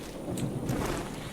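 A fire-raining spell in Reprisal Universe, a dense rumbling roar like a heavy downpour with thunder, steady and loud across the brief moment with no talk.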